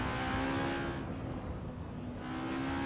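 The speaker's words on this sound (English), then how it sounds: "Bit too loud for me, the car." Race car engine in a Nürburgring racing video game holds a steady loud drone, its pitch dipping slightly midway then rising again, with no talk.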